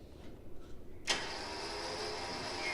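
A winch on a 2005 Jeep Wrangler Rubicon pulls its cable: a sudden onset about a second in, then a steady, moderately loud whirring drone that holds for the rest of the clip, with no talking.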